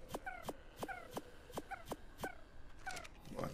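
Dogs in the video game ARK Survival Ascended whimpering in a quick run of short, high yelping whines over sharp clicking hits, evenly repeated about twice a second, fairly quiet.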